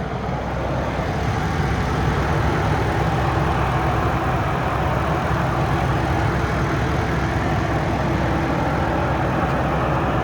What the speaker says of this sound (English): I'm not going to say anything while I show you the motor just because obviously it is very loud